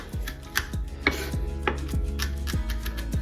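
A knife chops food on a board, cutting it up small in a kitchen, with about seven sharp, evenly spaced strikes over steady background hum, close and fairly loud.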